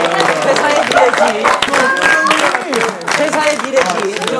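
An audience at a K-pop group's staged company-workshop show claps and cheers continuously, with dense, steady applause mixed with loud voices shouting and chattering throughout.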